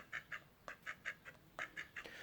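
A duck quacks repeatedly in quick bursts, about ten short nasal calls in a steady rhythm, close by and fairly quiet.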